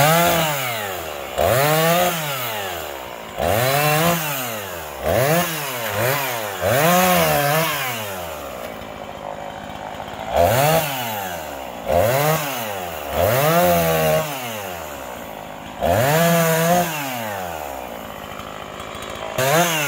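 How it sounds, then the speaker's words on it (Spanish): Chainsaw cutting firewood from a fallen tree, revving up and bogging down in repeated bursts of a few seconds each, loud and close, with short pauses between cuts. "motosierra y leña del árbol caído"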